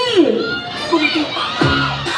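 A team of children shouts a cheer together during a sports game at a mall in Rosales, with loud, overlapping voices rising and falling in short bursts.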